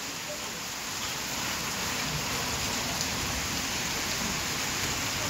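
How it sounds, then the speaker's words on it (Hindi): Heavy rain pours down steadily in Bahawalpur, Pakistan, a loud, dense, unbroken hiss of drops on surfaces that lasts throughout. "बारिश दोबारा तेज़ हो गई है जी"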